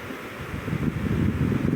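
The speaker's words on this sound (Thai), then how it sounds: "ลมมาแล้ว" Strong storm wind gusting steadily against an open field shelter during a storm that has changed direction, a broad continuous low roar and buffeting that swells louder through the second half.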